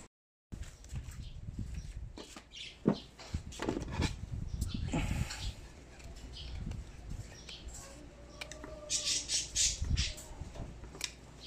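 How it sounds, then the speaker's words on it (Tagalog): Pet lovebirds squawk and chatter in repeated sharp, scratchy calls at close range, scattered irregularly over steady background noise. "Sa mga lovebirds natin."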